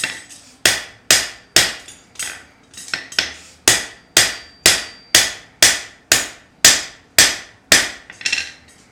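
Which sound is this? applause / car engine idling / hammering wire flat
hammering wire flat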